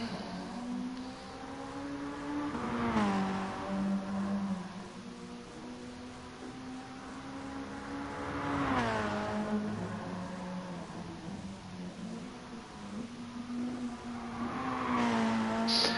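A Toyota race car in a sim racing game laps the Nordschleife, its engine rising through the revs in long pulls with sharp downshift blips around three gear changes, steady and mechanical with no talking.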